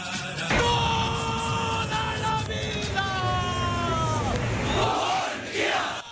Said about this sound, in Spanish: Es el grito que por décadas se ha escuchado en las calles de la capital